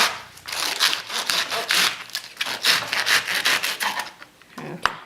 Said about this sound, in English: I'll use the scissors to cut around the same way till I'm done